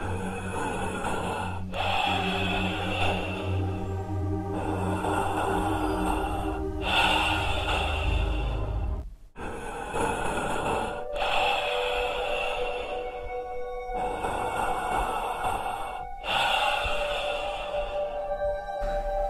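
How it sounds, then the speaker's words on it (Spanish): Heavy, labored gasping breaths of a woman who sounds as if she is being suffocated, coming in long, repeated drawn-out cycles with brief pauses, loud and close, over an eerie droning horror-story background. "Solo se oía su respiración pesada,"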